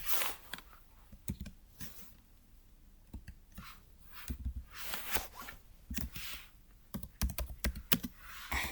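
Rapid, uneven keystrokes on a computer keyboard while HTML header code is typed, clicking in short bursts with brief pauses, close and moderately quiet, with no talking.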